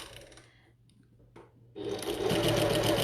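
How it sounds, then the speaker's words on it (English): A sewing machine runs a long basting stitch on a bucket tote, quiet handling and a faint hum at first, then the motor starts abruptly into a loud, close, steady rapid whirr. "increase my seam allowance to a basting stitch to about there"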